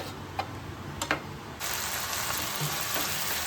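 A few light taps and clicks, then a steady hiss of crushed ginger and garlic sautéing in a hot pan for Jaffna-style chicken, close and continuous.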